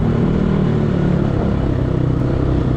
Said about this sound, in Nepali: हामी पनि बाइकमा यसरी कुदिरहेको छ